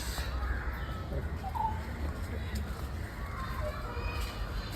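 Crow-like caws and other birdcalls sound in the Kandy botanical garden in Sri Lanka, set against a steady, busy wash of crowd and children's voices in the open air.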